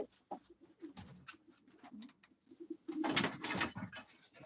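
Pigeons at a live pigeon auction coo in soft, repeated bubbling calls close by, with flapping and shuffling noises in between and a louder burst of cooing toward the end.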